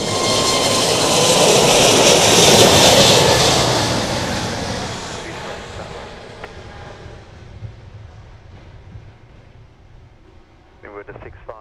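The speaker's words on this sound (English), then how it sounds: "That was Spirit 101 on its way to Fort Lauderdale. Airbus A320 Neo" An Airbus A320neo jet operated by Spirit passes at an island airport, its loud broad engine roar swelling over the first few seconds and then slowly fading as the aircraft moves away, with a faint voice near the end.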